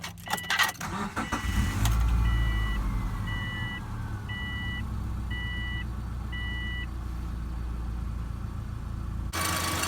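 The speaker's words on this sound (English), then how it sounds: "we have just cranked up the engine, and we're going to figure out why this car might be overheating" A 2004 Subaru Impreza that is overheating, with its engine just cranked and settling into a steady idle, a low rumble after some key jangling, while a rhythmic electronic beeping repeats in the middle.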